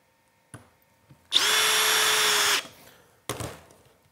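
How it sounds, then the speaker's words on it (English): A Harbor Freight cordless drill fitted with a number 2 driver bit spins up for about a second of steady whine, then stops; short clicks and a brief second burst follow nearby. "The drill, no problem, obviously. This is plenty of torque, plenty of speed."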